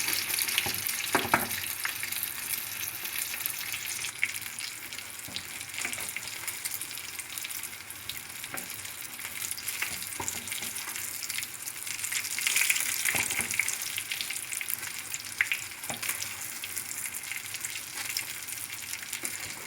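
Paçanga börek deep-frying in oil, a continuous bubbling sizzle with occasional sharper crackles and pops, steady and close throughout.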